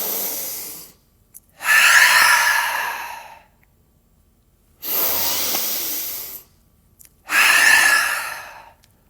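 Three long open-mouth exhales from yoga breathing, each a loud, close breathy rush lasting a second or two, separated by quiet pauses.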